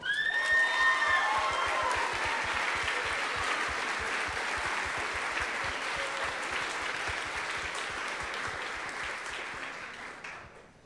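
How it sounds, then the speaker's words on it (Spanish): Crowd applauding and cheering a university team, OWO of Universidad de Guanajuato, Mexico, at the ICPC Latin America programming contest closing ceremony; dense sustained clapping with some whistles and shouts early, fading out at the end. "un aplauso para OWO, Universidad de Guanajuato,"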